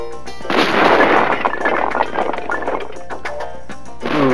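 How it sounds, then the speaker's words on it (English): A video game explosion in Spyro 2 bursts loud at once, then rumbles and crackles with scattered pops for several seconds before a fresh burst at the end. "Ooh, what an explosion."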